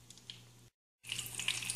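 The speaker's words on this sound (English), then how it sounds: "Now you can still hear that sizzling." Squash flowers coated in rice flour fry in hot oil, giving a steady close hiss and sizzle with crackles, broken by a brief gap of silence before the sizzling returns louder.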